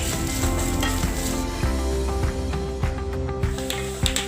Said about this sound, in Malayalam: വെളിച്ചെണ്ണ ചൂടായി വരുമ്പോൾ നമുക്ക് തേങ്ങ ചെറുതായി അരിഞ്ഞു വെച്ചത് ഇട്ട് കൊടുക്കാം.